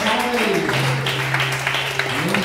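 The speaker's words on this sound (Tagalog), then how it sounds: "Yung buhay na palakpak ay" Steady applause from a crowd at a church prayer meeting, with a sustained musical tone and a voice rising over it near the end.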